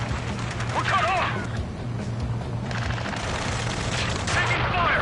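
Continuous gunfire and explosions fill a video game battle around a helicopter and drones near a space elevator, with voices and radio chatter calling out over the steady din.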